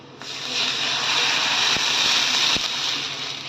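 Water poured into hot fried masala with turmeric in a pan for sandgyachi bhaji makes a loud, continuous hissing sizzle that swells and holds, with a few faint clinks underneath.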